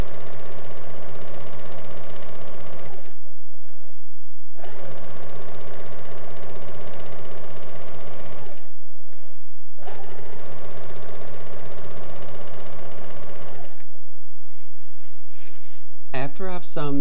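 A 1996-era sewing machine stitches a design onto fabric in three long steady runs of fast, even, mechanical whirring, each broken by short pauses. A voice talks over it and the sound is close and loud.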